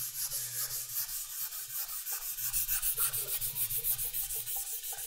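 Wet sanding of a 2K aerosol spray-painted car panel with 1500-grit sandpaper, a steady rapid back-and-forth rubbing rasp repeating in even strokes, close and continuous with no talk.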